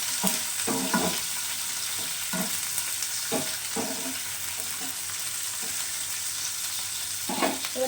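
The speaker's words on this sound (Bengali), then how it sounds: "ক্যাপসিকামটাও হালকা ভাজা হবে।" Capsicum frying in a pan for chilli chicken, a continuous close sizzle with repeated spatula knocks and scrapes at irregular intervals as it is stirred.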